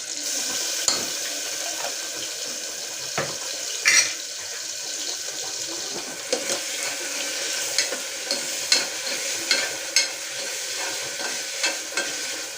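Ginger garlic paste fries in a pan for a red lentil curry, giving a soft, continuous sizzle broken by scattered scrapes and clinks of stirring, fairly quiet and with no voices.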